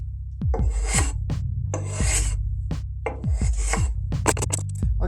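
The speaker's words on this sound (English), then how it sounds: "I used a rasp to get this relatively flat." A hand rasp files a wooden trophy blank flat in rhythmic, loud strokes, each a rough scraping rasp separated by brief pauses, close and alone.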